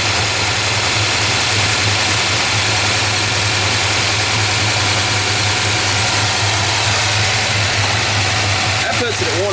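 A car engine with a Holley carburetor idles after a carburetor mixture adjustment, a loud, steady, close rumble with even vibration that runs continuously, with no talk over it.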